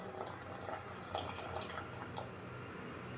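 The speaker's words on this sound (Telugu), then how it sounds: "పెట్టుకున్న చింతపండు ఇప్పుడు పోసేద్దాం." Soaked tamarind water being poured into a cooking pot for a simmering dish, a steady close splashing pour lasting throughout, fairly quiet.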